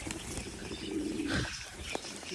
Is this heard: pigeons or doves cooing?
yes